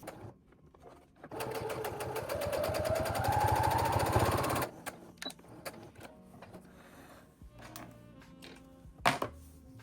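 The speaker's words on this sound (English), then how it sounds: "we're going to run some wavy lines along the middle when we're done sewing this" A sewing machine stitching a small fabric wristlet keychain runs in a steady, loud, rapid mechanical burst for about three seconds, then stops, leaving scattered clicks and handling noises.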